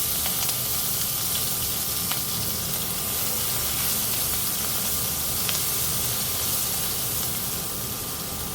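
Curry leaves, asafoetida and crushed green chilli paste sizzle steadily in hot oil, a constant close hiss with a few faint clicks of a spoon.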